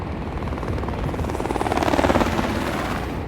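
Helicopter rotor noise passing overhead, a steady broadband chop that swells toward the middle and then holds, loud and close with no voices.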